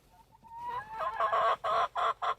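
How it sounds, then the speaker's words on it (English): Chickens clucking in a coop during a snowstorm, a rising drawn-out call followed by four loud, rhythmic clucks close by, with no talk. "I hear some chickens."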